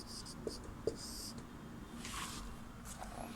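Pen scratching on paper as a Hindi letter is written out, a few soft strokes and taps, faint and close, with quiet room hiss around them.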